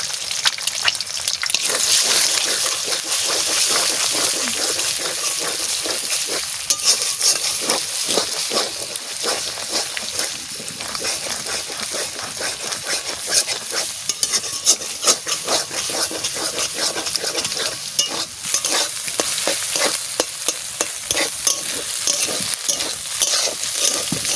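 Continuous sizzling of chowmein stir-frying in a pan, with repeated scraping and stirring strokes throughout, close and fairly loud.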